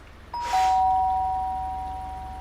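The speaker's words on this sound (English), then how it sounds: "You have to walk it up and ring the doorbell." A doorbell chimes once in a video game, a clear bright tone that rings on and slowly fades over a quiet background.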